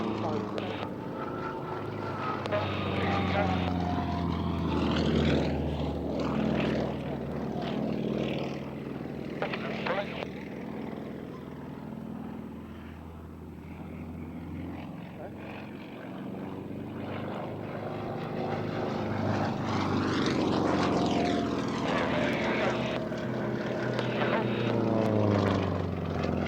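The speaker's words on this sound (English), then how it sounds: "9-cylinder supercharged engine, develops over 400 horsepower, giving it a tremendous power to weight ratio." Aerobatic aircraft with a 9-cylinder supercharged radial engine of over 400 horsepower performing at the RAF Waddington airshow, its propeller drone rising and falling continuously with a commentator talking over it throughout.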